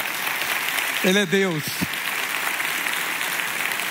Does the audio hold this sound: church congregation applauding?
yes